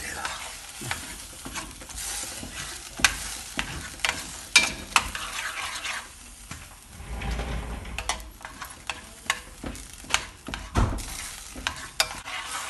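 A ladle mashes fried dried chillies, green chillies and onion in a hot pan, giving continuous close scraping and stirring with irregular knocks and clatters over a soft sizzle. No one speaks.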